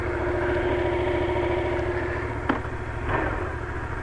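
A Yamaha MT-07 naked motorcycle's engine running steadily close by with a low, even hum, joined by a couple of brief mechanical clicks and a small rise near the end, with no talking.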